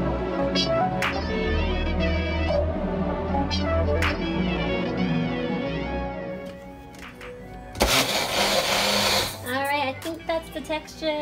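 Baby Bullet blender pureeing broccoli into baby food, a steady droning whir under a voice that speaks over the motor before a louder, harsher burst of blending near the end.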